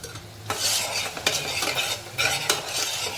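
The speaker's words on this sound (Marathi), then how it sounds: "कांदा थोडा परतून झाला की आपण जे वाटण आता घे घेत केलं ते वाटण घ्यायचं परतवून" A ground masala paste is sautéed with onion in a pan for a spicy Maharashtrian matki usal, with steady sizzling broken by several sharp scraping stirs of a spoon against the pan, close and fairly loud, with no talk.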